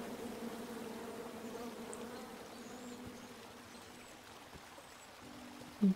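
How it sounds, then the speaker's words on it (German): Bees buzzing around a tree in the King's Quest video game, a soft continuous droning hum with faint flowing water beneath, ending in a short sharp sound effect. "Kommt her, Bienen!"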